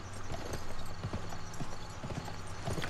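Steady horse hooves clip-clopping at a walking pace in the video game Gun, close and clear, with a low droning background underneath.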